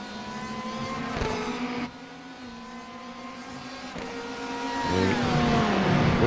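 Several race cars in the iRacing sim at Watkins Glen, one chasing a Porsche, roar together in a steady, layered engine drone with shifting pitch, building louder toward the end with no talk.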